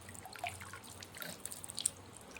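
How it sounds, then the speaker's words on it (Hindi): Water drips and trickles from a government-supplied household tap in a village in Chhattisgarh, faint and close, with small irregular splashes and no talk. "ये है घर घर नल योजना के तहत कितना पानी आ रहा है।"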